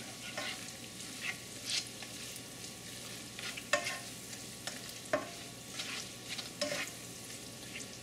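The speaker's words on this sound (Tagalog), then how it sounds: "So tinutunaw natin itong butter dito" Butter melting in a hot pan before rice goes in for longanisa fried rice, a faint soft sizzle with occasional spatula scrapes and stirring clicks, no voices.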